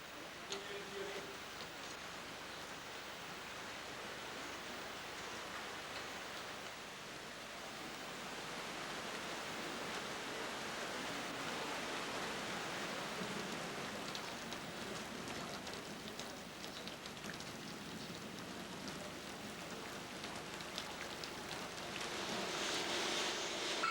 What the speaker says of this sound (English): As the rain descended, a trip to the depot revealed evidence of the demise of steam